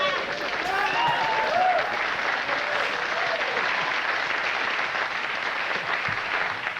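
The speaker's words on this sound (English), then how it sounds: "The women clapped at the premise and the men clapped at the punchline" Studio audience applause after a joke on a comedy news segment, a dense sustained wash of clapping that carries on steadily for several seconds with a little crowd noise.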